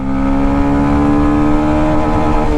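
A Yamaha FZX motorcycle engine drones loudly and steadily up close as it pulls through the gears, a strong continuous hum with a slowly rising pitch and no speech.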